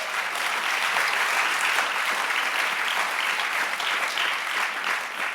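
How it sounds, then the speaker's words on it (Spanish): A church congregation applauds together in a steady, dense wash of clapping that holds at an even level throughout, with no voices standing out above it. "Denle un aplauso al Señor por Isaac."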